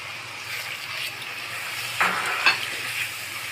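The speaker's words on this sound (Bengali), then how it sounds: "এখন পাস্তা সিদ্ধ করে যে জলটা হয়ে গেছে তার থেকে কিছুটা দিয়ে দিব।" Pasta cooking water hits spices fried in oil in a pan, giving a continuous sizzle with stirring. Two sharper hissing bursts rise partway through.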